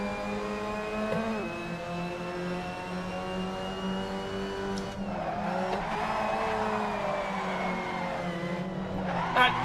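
A Mazda MX-5 Cup car in a racing video game held in a drift, its engine droning steadily with shifting pitch and tires squealing, loud and continuous with no pauses.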